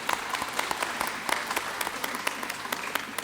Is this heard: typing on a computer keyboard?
no